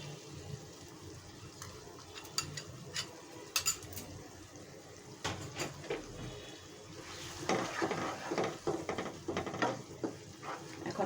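Spice paste, a Radhuni masala blend mixed with a little water, hits a hot pan for chicken roast, giving a near, steady sizzle with scattered clinks and stirring scrapes that grow busier toward the end.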